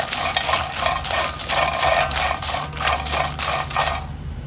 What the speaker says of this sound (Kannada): ಒಣಮೆಣಸಿನಕಾಯಿ ಎಲ್ಲ ಹಾಕ್ಕೊಂಡು ಫ್ರೈ ಮಾಡ್ಕೊಳ್ಳೋಣ